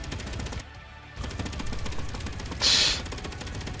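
Turret guns in the Space Engineers game fire in rapid, dense bursts with heavy recoil thuds, a loud continuous rattle broken by a short pause and a sharp high burst near the end.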